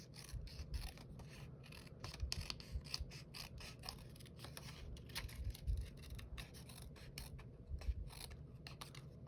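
Scissors cutting out paper pieces for an envelope mini scrapbook album, a quiet close series of quick snipping and rasping strokes in an irregular rhythm with no talking.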